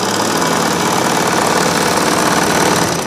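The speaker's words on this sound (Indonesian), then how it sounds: "menggunakan mesin hitam ya untuk jahit bed cover" A black Singer Butterfly sewing machine stitches through a thick bedcover, its steady, rapid mechanical whir and needle clatter running loud and continuous throughout.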